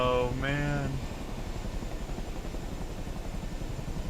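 Chinook helicopter in Microsoft Flight Simulator 2024, a steady, loud rotor drone with fast rhythmic blade chop filling the whole stretch, and a voice over the start of it.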